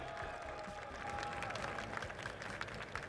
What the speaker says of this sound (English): Round of applause for our 4th place winner, Bells, everybody!